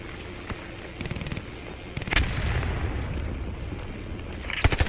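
Incoming artillery rounds in the World War II shooter Post Scriptum: a couple of sharp blasts and a heavy low rumble of shelling that swells and continues, with another burst near the end.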